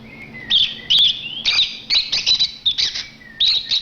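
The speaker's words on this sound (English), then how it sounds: "Lovebird sounds like chirp chirp." A lovebird chirps in bright, high-pitched bursts, several quick calls in a row with short pauses between, close and fairly loud with no other sounds.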